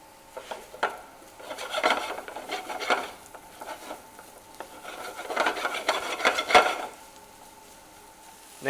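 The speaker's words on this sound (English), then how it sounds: "we're just going to brown our onions off" Onions browning in a little oil in a hot pan for a beef and mushroom madras, with soft scraping and stirring through the sizzle, rising in two busier bursts, close and moderately quiet with no talk.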